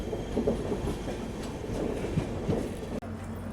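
A first-class AC passenger train on the Bhopal to Jaipur route runs along the rails with rhythmic clickety-clack and a continuous rumble from inside the coach, ending in a brief break near the end.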